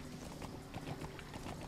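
Soft, rhythmic clip-clop of a horse's hooves from Metal Gear Solid 5, faint and steady throughout under a low ambient game soundscape.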